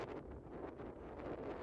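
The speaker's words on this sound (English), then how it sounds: "It's getting a little bit cold, windy." Low, blustery wind on the Oregon coast north of Florence, buffeting the microphone in a steady rumble, close and continuous for a brief moment.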